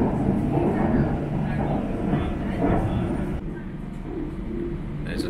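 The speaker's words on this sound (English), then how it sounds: "There's another non-stop station and another train." A Shanghai Metro train on the line past the Disney branch rumbles steadily through a non-stop station, its low broadband roar filling the whole stretch with a slight drop near the end, voices talking faintly over it.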